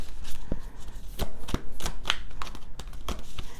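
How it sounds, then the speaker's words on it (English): Crisp, irregular riffling and slapping of tarot cards being shuffled, a run of sharp flicks and taps close by, with no talking. "I do shuffle until the energy leaves the deck"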